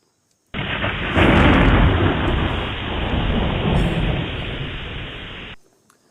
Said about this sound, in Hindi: बादल गरजो